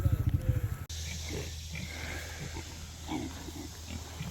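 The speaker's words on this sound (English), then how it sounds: "Got our pigs" Farm pigs grunt in a quick, rhythmic string of close oinks before they stop abruptly, leaving a low steady hum and faint rustling with a hint of distant voices.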